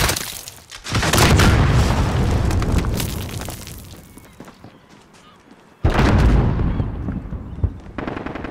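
Cruise missile strikes explode in a military video game, a heavy roaring blast rumbling for several seconds, fading, then a second sharp, loud explosion bursting in with crackling debris and scattered gunfire.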